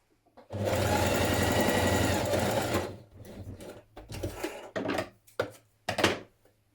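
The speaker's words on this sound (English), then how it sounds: "So stitch them in position first of all, and then understitch the front section pockets." A sewing machine understitches coat front pocket sections in one sustained close run of rapid stitching, then stops, followed by scattered handling knocks and fabric shuffling.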